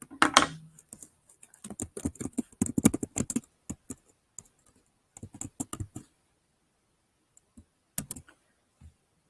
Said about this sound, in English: Also, I can also type in this.